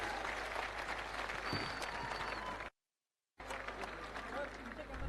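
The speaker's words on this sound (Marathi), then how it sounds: "सगळ्यांनी हात वरून टाळ्या वाजवल्या पाहिजे" A large crowd at a Dahi Handi festival event applauding, a dense continuous roar of clapping with crowd noise, cut by a brief silent gap before resuming.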